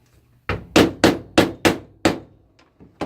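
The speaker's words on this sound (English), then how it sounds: "So I'm going to use the hammer." A steel hammer tapping a bicycle part while cables are serviced: six sharp metallic knocks in an uneven rhythm, close and loud, followed by two lighter taps, with quiet between blows.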